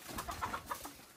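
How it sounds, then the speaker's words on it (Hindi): Chickens in a Kashmir village give a few faint, soft clucks heard from a distance. "ये मुर्गी मुर्गी"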